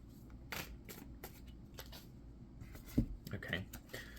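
Tarot cards shuffled and pulled from the deck in a series of soft riffling swishes and slaps, close and fairly quiet, with a voice speaking over them.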